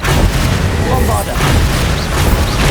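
A booming blast from the Bombarda explosion spell in Hogwarts Legacy, loud and close with a broad rumbling body that stays heavy across the whole stretch, and a voice calls out over it.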